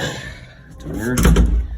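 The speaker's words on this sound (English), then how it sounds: "You can close the door too." A residential home elevator door swings shut with a single solid thud and rattle near the end, close by, after a short stretch of quiet room sound.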